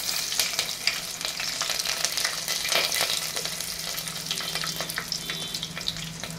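Onions sizzle in hot oil for the tempering of a drumstick sambar, a loud, continuous crackling fry with dense spitting pops and a few stirring scrapes.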